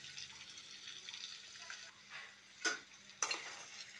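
Food fries in a pot on a stove at low heat, giving a soft steady sizzle broken by a few brief stirring clinks of a utensil against the vessel.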